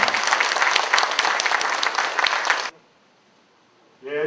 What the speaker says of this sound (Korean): 다시 한번 김한길 대표님께 힘찬 박수를 보내주시기 바랍니다